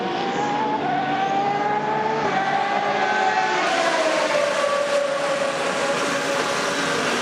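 A Le Mans 24 Hours race car, the #1 Peugeot in the 2010 race, fills the scene with a loud, steady engine whine whose pitch slides downward midway through as it passes, with no talk over it.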